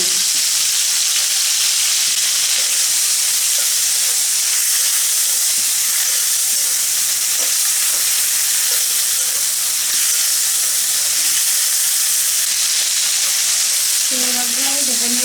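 Shrimp seasoned with salt and turmeric frying in hot oil, a loud, unbroken close-up sizzle and hiss that runs without a break, with faint stirring knocks and a brief tonal sound near the end.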